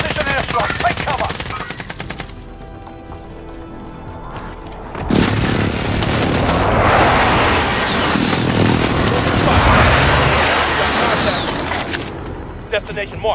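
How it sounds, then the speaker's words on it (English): Heavy explosions and rattling gunfire in a military shooter video game, with an enemy precision airstrike hitting in a long loud roaring barrage after quieter shooting and a brief in-game voice line. "Enemy precision airstrike. Take cover."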